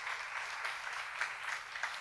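A church congregation at a Nehemiah seminar gives quiet, even applause, a soft and steady patter of many hands heard from a distance.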